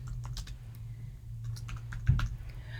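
Keys clatter in quick, uneven bursts as a name is typed into a form on a computer keyboard, close and fairly quiet over a low steady hum.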